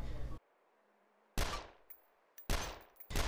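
Automatic rifle fired in short bursts in the video game DayZ, three loud broadband volleys separated by near silence, each with a quick decaying tail and no talking.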